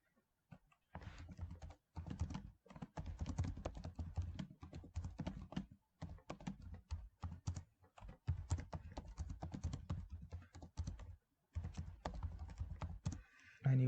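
Steady computer keyboard typing in bursts of rapid clicks, broken by short pauses, close up and alone with no voices.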